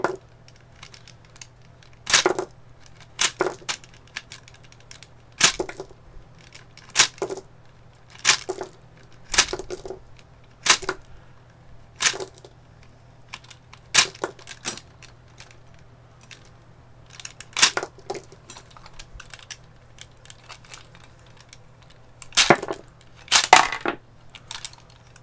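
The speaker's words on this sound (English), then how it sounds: "So it's kind of neat watching 75 rounds pour out." Rifle rounds are pushed one by one out of an AK47 75-round drum magazine, each falling with a sharp metallic clack in an irregular series of close, isolated clicks over a faint low hum.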